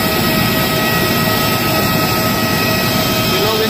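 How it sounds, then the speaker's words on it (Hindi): Both jet engines of a passenger airplane keep running, a loud, steady roar with a constant whine heard from inside the cabin, unbroken throughout. "इंजन रन कर रहे हैं कि बंद ना करें दोनों।"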